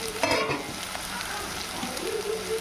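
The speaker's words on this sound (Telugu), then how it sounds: "టమాటా ముక్కలు బంగాళదుంప ఉడకబెట్టి ముక్కలు కట్ చేసి అవి కూడా వేసుకుందాం" Tomato pieces and boiled potato chunks going into a hot frying pan for a potato egg kurma, giving a steady, close sizzle and bubbling with faint stirring.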